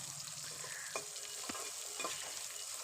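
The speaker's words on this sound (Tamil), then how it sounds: "வெங்காயம் சேர்த்து இது வந்து ரொம்ப ப்ரௌனாலாம் ஆக வேணாம். இது கொஞ்சம் எண்ணெயில் வதங்கினா மட்டும் போதும்." Onion sautéing gently in oil in a pan, a steady soft sizzle with a few brief stirring scrapes, close and alone with no voices.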